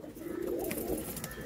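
A golden jeera pigeon with red eyes gives a soft low coo, faint and close, with a brief rustle in the background.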